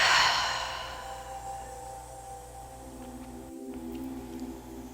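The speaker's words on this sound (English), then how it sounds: "taking another deep breath in, inside out" A deep yoga breath, a breathy inhale and slow exhale heard up close at the start that fades into a soft, quiet room tone with a low hum.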